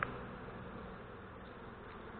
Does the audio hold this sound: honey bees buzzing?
yes